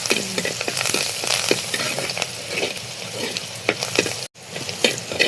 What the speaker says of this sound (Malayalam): 2 പച്ചമുളക് കറിവേപ്പില അല്ലേ കറിവേപ്പില കറിവേപ്പില ഇടുമ്പോൾ എന്താ സ്മെല്ലല്ലേ